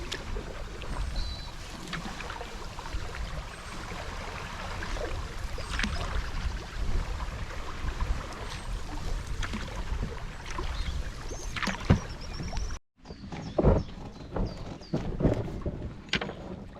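A canoe is paddled along the River Wye, with steady water wash and rushing wind noise filling the scene throughout, broken by a brief dropout near the end.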